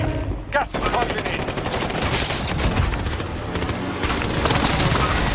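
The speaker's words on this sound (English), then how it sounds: "Oh, airstrike got me." Rapid bursts of gunfire and explosion booms from a precision airstrike in a Call of Duty Warzone Rebirth quads match, dense and continuous, crackling throughout with a heavier blast near the end.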